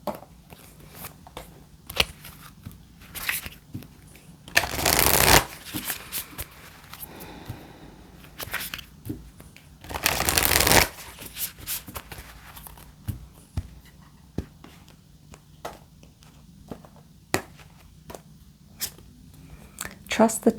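Starseed Oracle cards shuffled in bursts, with two louder riffling sweeps standing out among soft taps and rustles, close up, while a voice talks quietly in between.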